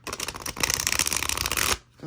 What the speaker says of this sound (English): it's just like a big chore, dude, to shuffle these suckers.